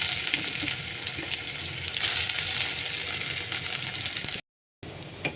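Garlic, dried red chilli and nigella seeds sizzle in hot oil in a wok, a steady close crackling fry with brief stirring, broken by a short silent gap near the end.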